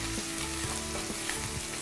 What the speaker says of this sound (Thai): เอาหมูกับตัวบุกเนี่ยค่ะผัดด้วยไฟแรงนะคะ